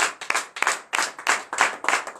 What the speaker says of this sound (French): Donc je vous demande encore d'applaudir très fort.